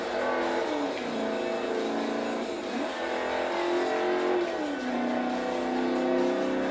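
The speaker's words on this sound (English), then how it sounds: "That's a pure American V8." An AMC Javelin AMX's American V8 roars continuously in Forza Motorsport 3, the engine note rising and dropping through repeated gear changes and revs, loud and steady with no talking.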